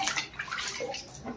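Powdered starch poured into about 1.5 litres of plain water for starching cotton saris, a quick run of splashy, gurgling liquid sounds, close and moderately loud, with no talk over it.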